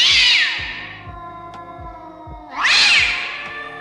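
A black cat gives two drawn-out, loud, wailing meows separated by a pause, close and clear over a low ominous hum.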